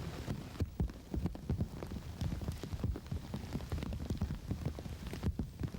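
Steady rain pattering on the ground and surfaces during a 1999 disc golf championship round, a dense continuous patter with scattered louder drops and no talk.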